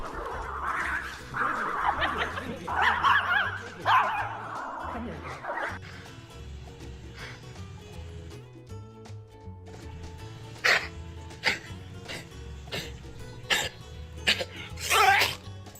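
A dog yakks with rough, hacking bursts that come in quick succession, followed by sharper, scattered sounds and faint background voices.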